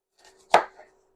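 A knife comes down once on a red onion, making a single crisp chop against a cutting board, with a faint tap before it and a softer one after.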